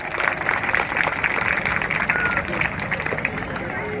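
An audience at a lecture on Shivaji's life bursts into clapping for the speaker, a busy, fairly loud patter of many hands mixed with crowd murmur that holds for several seconds and eases slightly toward the end.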